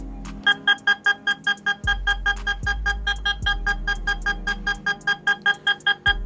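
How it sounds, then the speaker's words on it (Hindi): A rapid train of short, evenly spaced electronic pulsing tones from an Oppo A6c phone's speaker-cleaning feature, loud and continuous, with low buzzing hums starting and stopping beneath. "जैसे इसको स्टार्ट करोगे तो एक साउंड प्ले होगा और उसकी वजह से स्पीकर से पानी निकल जाएगा"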